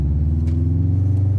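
A Mitsubishi Evo rolls past on a town street in Anchorage, Alaska, a brief, loud, deep engine rumble that holds steady without voices.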